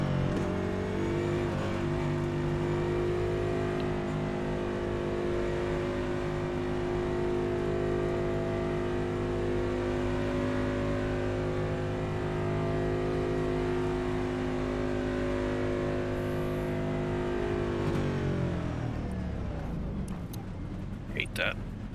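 Race cars accelerating hard on a circuit from inside the cockpit, a steady loud engine drone with sustained harmonics that shifts and drops near the end, with cars around.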